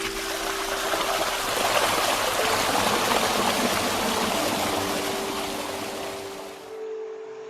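Water rushes from an outlet pipe feeding farms along the south side of a low river, a continuous close, steady gush with a faint tonal hum, fading slightly near the end.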